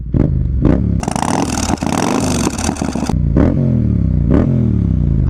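A Yamaha MT-07 motorcycle engine burbles at low revs with a few throttle blips, then a loud clattering, scraping burst before settling back to a lumpy idle.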